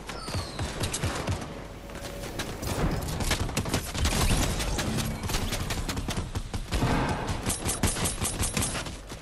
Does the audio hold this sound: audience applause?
no